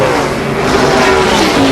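Race car accelerating away from a pit stop, a loud steady engine roar with a rising pitch that fills the whole moment at close range, with no talk over it.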